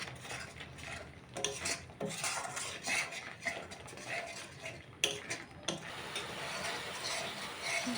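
A spatula stirs and scrapes bitter gourd (karela) curry with spices in a pan, giving steady close clinks and scraping with no talking.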